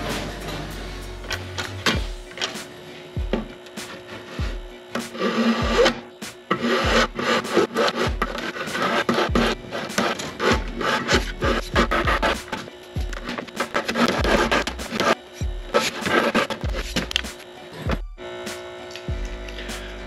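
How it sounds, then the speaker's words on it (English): Metal weld beads being filed down by hand: a steady series of close, raspy scraping strokes in a regular back-and-forth rhythm with brief pauses, and no talking. "So filing was taking forever"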